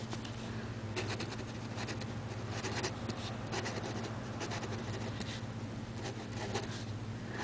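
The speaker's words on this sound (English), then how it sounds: "Maybe I should try to write nicer." A green pen writes on paper, the soft scratchy strokes coming in quick irregular bursts, close and quiet over a low steady hum.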